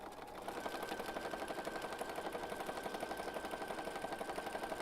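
A sewing machine stitches around the outside edge of a paper journal, running in a steady, fast mechanical whir with a rapid even needle rhythm, close and continuous.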